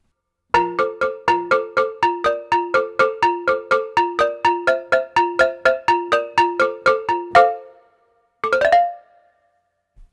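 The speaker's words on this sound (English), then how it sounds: "Let's go to a percussive patch here, muted percussion." Rapid series of short, muted glassy hits from the UVI Glass Orchestra muted percussion patch in a steady rhythm, each note clipped off quickly, ending with a brief pause and a final flourish.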